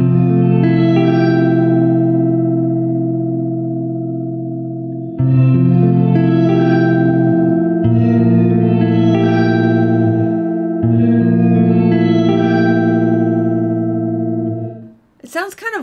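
Sustained electric guitar chords ring out through a Catalinbread Cloak reverb pedal set low, giving a short, tight reverb, changing several times before a brief noisy burst at the end.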